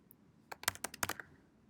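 Keys clack on a computer keyboard in a quick burst of about eight close, crisp taps, quiet and alone with no talk.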